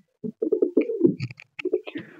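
Laldom pigeons in a loft give a short run of soft, throaty coos and burbles close by, with a couple of higher chirping notes near the end.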